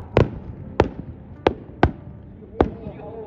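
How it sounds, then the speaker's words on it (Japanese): Fireworks bursting at a Fuji Speedway fireworks festival held alongside motorbike and car running, heard as five sharp booming thuds spaced irregularly, each with a short rumbling tail. "大絶景の花火がめちゃくちゃ上がっていっております。"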